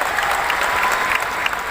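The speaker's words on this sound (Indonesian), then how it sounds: "boleh tepuk tangan kepada mereka." A dense crowd applauds steadily and loudly throughout, filling the hall during an Indonesian political speech by a presidential hopeful at a Partai Demokrat gathering.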